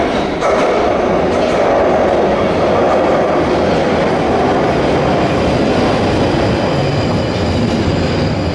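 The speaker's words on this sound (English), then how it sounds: "gonna head off now to the Underground, the London Underground" A London Underground tube train rumbles loud and close, with a continuous roar of wheels on rails and faint rhythmic clatter throughout.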